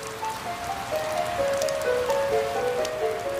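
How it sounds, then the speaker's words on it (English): Steady rain patters on a surface, a continuous hiss with scattered drips, while a soft tonal music line plays underneath. "It rained"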